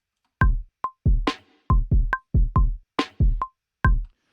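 A dry drum beat alternates deep kick thumps with sharp snare cracks in a steady groove, close and loud with nothing else playing.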